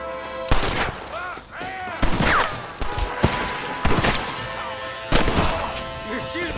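Gunshots ring out in a Red Dead Redemption shootout, several sharp, loud cracks spaced a second or so apart over a busy backdrop of game sound, with a voice speaking in between.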